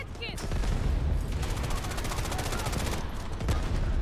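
Gunfire in the Delta Force video game, with dense rapid automatic shots forming a loud continuous fusillade and a few sharper single reports near the end.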